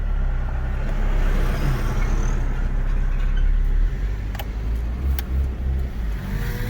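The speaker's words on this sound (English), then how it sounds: "Now we're just gonna drive off." A Nissan with a QG15DE engine, manual gearbox and an Ecumaster EMU Black ECU pulls away from inside the car, its engine a steady close low rumble that eases slightly partway through, with a few faint clicks.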